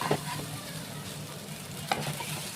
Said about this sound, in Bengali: জল দিয়ে কষাবো মশলাটা